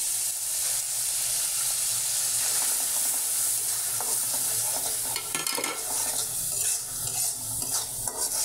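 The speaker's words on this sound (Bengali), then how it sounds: "সব মশলাগুলো আমি ভালো করে কষিয়ে নেব" Spices stirred and sautéed in hot oil in a kadai while cooking a potol and fish curry, making a steady sizzle with continuous scraping stirs throughout, close and moderately loud, with no talk.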